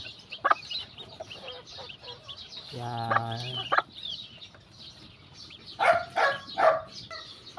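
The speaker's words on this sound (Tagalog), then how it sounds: "Tapos ito naman pala yung inahin ko" A brood hen on a gamefowl breeding farm clucks and calls in short bursts, with a longer throaty call in the middle, amid faint background farm noise and a brief word of talk.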